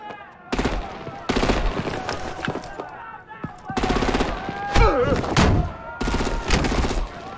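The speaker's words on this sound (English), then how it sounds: "Break out the artillery and disable their vehicles!" Bursts of automatic gunfire and heavy weapon blasts from a Batman: The Enemy Within action scene, loud and close, coming in repeated volleys with short gaps between them.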